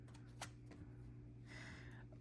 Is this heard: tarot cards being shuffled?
yes